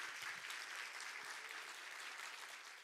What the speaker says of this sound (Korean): 우리 정말 이전에 받아본 적이 없는 뜨거운 사랑의 박수로 이렇게 선교사님을